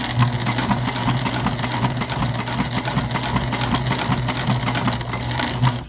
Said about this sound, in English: Should be a relatively easy top stitch.